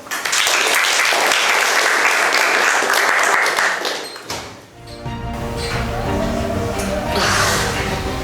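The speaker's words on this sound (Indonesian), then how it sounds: "Okay, give applause." An audience bursts into loud, sustained applause in a room, clapping densely for about four seconds before it stops abruptly, followed by talking with a murmuring crowd.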